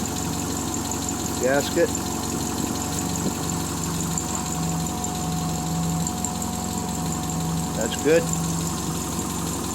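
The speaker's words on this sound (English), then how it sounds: "Listen to the motor." A Triumph Spitfire engine idling after brake line and exhaust repair, a steady moderate hum running under someone talking nearby, with brief clanks of handling.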